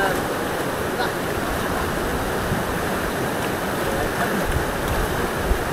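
A strong water current rushing through a lagoon in a steady, loud, broadband roar that never lets up, with faint voices mixed in underneath.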